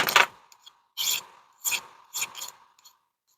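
Four short rasping strokes of a hand file deburring a small metal part, close and fairly quiet, each stroke separated by brief pauses.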